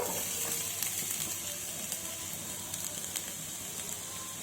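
Chopped onions and green chillies frying in about three spoons of hot oil for a curry, giving a steady, close sizzling hiss with faint crackles and no talking.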